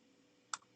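A single crisp computer mouse click, close and quiet, stands alone in a near-silent room.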